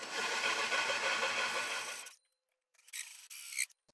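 A loud, steady grinding rasp of a cheap hole saw cutting into scrap wood runs for about two seconds, stops, then returns in two shorter, fainter bursts.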